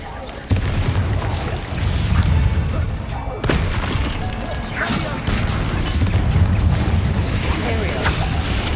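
Booming, crashing spell blasts from the Confringo fire curse in Hogwarts Legacy, loud and continuous over mechanical clatter, with game voices mixed in.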